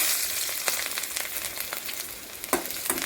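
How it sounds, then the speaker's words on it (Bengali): Crushed garlic hits hot fish oil for tempering and sizzles with a bright, crackling hiss close by, broken by irregular pops and spatters. "সেই মাছের তেলটা আছে, ওই তেলে রসুন ফোড়ন দিয়ে দেবো"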